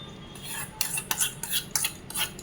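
A metal spoon mixes hot mustard oil tempered with whole cumin and asafoetida into a dish, producing quick clinks and scrapes against the bowl in short, irregular bursts.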